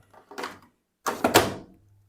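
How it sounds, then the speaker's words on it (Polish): Washing machine detergent drawer pushed back in: a short plastic sliding scrape, a pause, then a louder rattling slide ending in a thud, close by with no talk. "możemy włożyć szufladę do środka"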